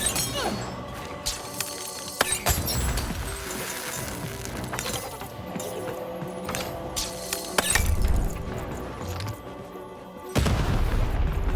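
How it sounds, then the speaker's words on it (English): Cannon fire in the video game Lost in Random: several heavy booms with crashing, shattering impacts go off at intervals over sustained game music. "button to fire the cannon."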